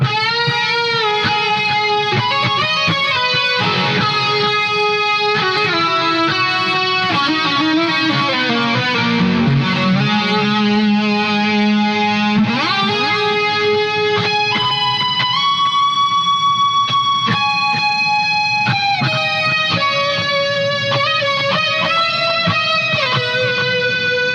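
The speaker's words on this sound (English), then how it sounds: "Got a lot of delay, that's for sure." An electric guitar played through an ART SGX 2000 Express preamp with heavy delay, sustained distorted notes and bends trailing into repeating echoes, loud and continuous with no talking.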